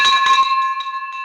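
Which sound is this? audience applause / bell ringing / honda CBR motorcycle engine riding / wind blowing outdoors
bell ringing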